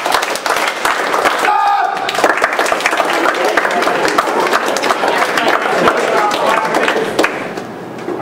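An audience of students at a leadership day keynote claps hands in a dense, continuous patter of applause while a speaker's voice carries over it.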